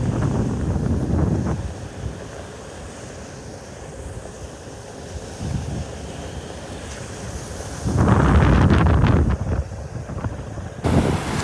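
Strong wind and rough surf on a beach in North Naples, Florida, as Hurricane Elsa passes, with loud continuous roar and gusty microphone buffeting, surging louder near the end.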